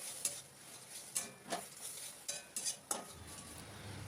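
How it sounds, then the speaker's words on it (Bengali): A spatula stirs spiced curry with added garam masala powder in a cooking pan, giving about half a dozen soft scraping clinks over a faint low sizzle, quiet and close. "আবার একটুখানি নাড়াচাড়া করে নিচ্ছি।"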